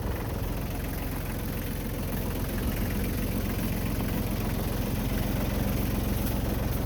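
A tractor fitted with a backhoe idles steadily, its engine producing a constant low, rumbling drone with an even, knocking pulse and no voices over it.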